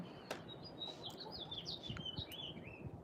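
Small birds chirp and tweet in quick, high-pitched phrases, fairly faint against quiet outdoor background noise.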